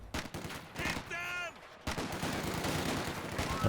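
Gunfire from a sniper rifle in Company of Heroes 2, with sharp shots cutting through dense battle noise, a brief whistling tone in the middle and continuous combat din behind.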